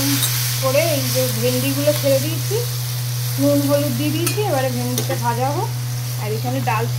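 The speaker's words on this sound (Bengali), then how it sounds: "এবারে ভেন্ডিটা ভাজা হোক" Okra frying in hot oil with salt and turmeric, a constant sizzle underneath while someone talks over it throughout.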